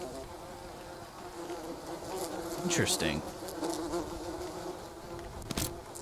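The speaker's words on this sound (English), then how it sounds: "Alright, I got a queen bee." A queen bee buzzes in the survival video game Green Hell, a close insect drone that swells in the middle and fades again, with a brief spoken remark over it.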